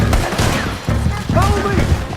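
Bursts of gunfire crack during a shootout in the Western video game Red Dead Redemption 2, several sharp reports in quick succession mixed with shouting voices.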